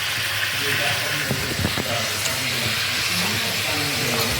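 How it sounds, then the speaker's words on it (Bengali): Potatoes frying in a pan with garlic and spices give a steady, dense hiss that runs evenly from start to finish, with a few faint clicks and scrapes in the middle and a low background hum. "আলুগুলো ভাজি হতে রাখলাম।"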